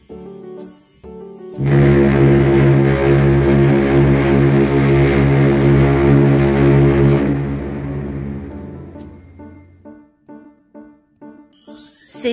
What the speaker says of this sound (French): C'est un avertisseur sonore d'un paquebot.